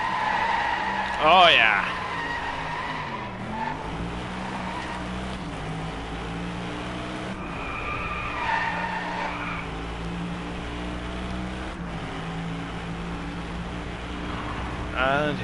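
A car drifting in the racing game Driveclub, engine droning with repeated squealing tyre skids that rise and fade, plus a short exclamation from a voice.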